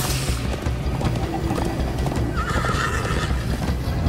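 Horses in the Minecraft Story Mode video game whinny and gallop, a neigh rising over steady rhythmic hoofbeats and a busy rumbling game soundtrack, fairly loud without speech.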